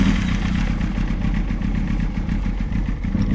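A 1998 Kawasaki ZX9R, freshly rebuilt, cranks and catches without choke, its engine running with a loud, close, rough and uneven rumble and a rapid pulsing beat throughout.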